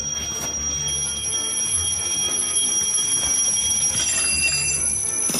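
An alarm rings steadily with high, piercing tones held throughout, loud and close, over a dense rattling background.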